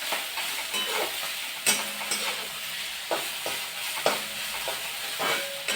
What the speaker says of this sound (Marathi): भाजी आपण व्यवस्थित परतून घेतोय